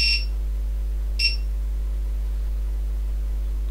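An FPV drone flight controller's buzzer gives two short, sharp beeps about a second apart as the board reboots, over a steady electrical hum.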